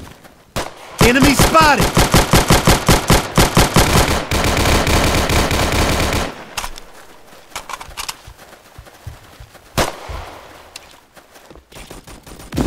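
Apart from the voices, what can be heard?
gunfire in a first-person shooter video game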